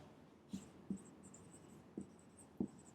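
Notes are written during a biology lecture: a few faint, short scratchy strokes at uneven intervals, heard alone in a quiet room.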